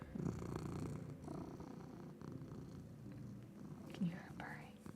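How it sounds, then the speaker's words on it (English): A cat named Pika purring close to a microphone, a soft low rhythmic rumble running steadily under quiet, hushed talking. "Can you hear Pika purring?"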